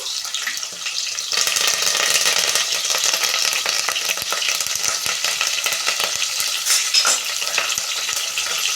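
Onions, dried red chillies and curry leaves fry in hot oil for a mutton curry, giving a steady loud sizzle with scattered crackles and scraping stirs of a spoon against the pan throughout.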